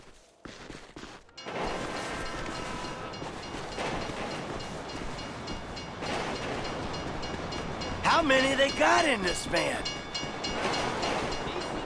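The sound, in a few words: passing train in video game Grand Theft Auto V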